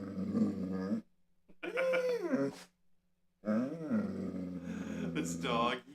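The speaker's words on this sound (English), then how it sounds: "Did you see a corgi on the TV, huh? Oh, you're gonna get that corgi?" A dog reacting to a corgi on the TV makes low growls and whining vocal bursts in two or three close, loud segments separated by short silences, with a voice talking in between.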